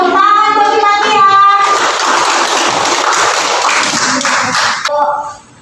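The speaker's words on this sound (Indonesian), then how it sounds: "Tepuk tangan buat kita ya." An audience claps in a dense, loud burst of applause that goes on for several seconds, with children's voices over it at the start and end, before the clapping stops.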